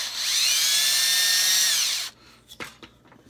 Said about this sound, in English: you'll get a feel for how deep you want to go with your drill